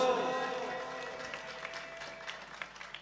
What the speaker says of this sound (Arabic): تصفيقة للكابوس